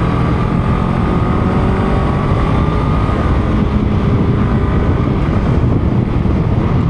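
Honda Rebel 500 motorcycle on its stock exhaust, a loud continuous rumbling drone with wind noise, held at a steady pace while riding on a road, with no voices.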